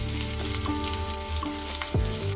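Chopped ginger and garlic frying in oil in a wok for bhindi masala, a steady close sizzle over a low background hum, with a brief sharper scrape near the end.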